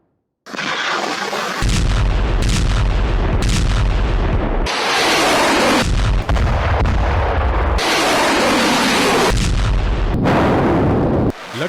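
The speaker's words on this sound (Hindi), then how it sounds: "यहाँ रूसी आर्टिलरी ने यूक्रेन की एक आर्मर्ड कार को टारगेट कर उड़ा दिया है। हौजियर से हमले को अंजाम दिया गया है।" Russian howitzer fire strikes a Ukrainian armoured car, with a string of loud, close booms and blasts following one another in quick succession, each a sharp crack with a heavy rumbling tail.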